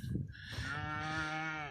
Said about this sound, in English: This group of cows finally came out, went up the lane.